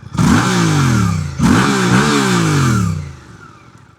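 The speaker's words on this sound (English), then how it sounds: "Fairly subdued at tick over. Nice burble." A 2026 Suzuki GSX-8TT motorcycle with a stubby under-swingarm exhaust, close and loud, giving two rising blips of the throttle over an idle burble before settling back down.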